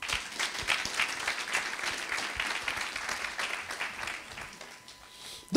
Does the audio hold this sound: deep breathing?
no